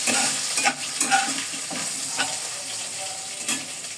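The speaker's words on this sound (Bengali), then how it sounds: "এখন মাছ ভাজছি, ছোট মাছ দিয়ে চাল কুমড়ি রান্না করব।" Small fish frying in a pan for a bitter gourd dish, a steady close crackling sizzle broken by a few louder spatters and stirring scrapes, with no talking.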